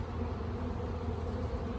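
Honey bees hum in a dense, steady drone around a crowded hive entrance, an even buzzing with no voices over it.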